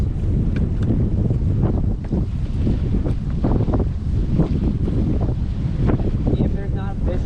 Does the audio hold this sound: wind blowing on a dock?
yes